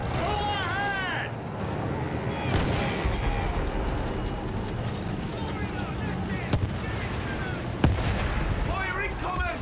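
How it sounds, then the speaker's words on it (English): Artillery fire in the World War I shooter Battlefield 1: a constant, heavy barrage of rumbling booms with sharper shell hits cutting through, under a wash of battlefield din and shouting. "Fire incoming! Artillery's tearing the boys apart!"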